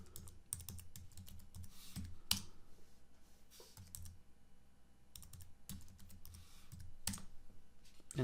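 Typing on a computer keyboard while entering a password on a Raspberry Pi setup: a near, steady run of light key clicks with brief pauses between bursts and a few sharper taps, with no voices.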